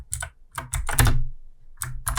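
Keys clack on a computer keyboard, with the Tab key among them: a handful of crisp, close taps in small bursts, one slightly louder press in the middle, and no talking.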